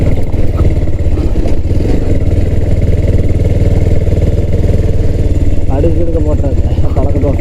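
A Bajaj Pulsar 220F motorcycle with a fork extender fitted drones steadily with a loud, continuous engine rumble while riding, and someone talks over it throughout.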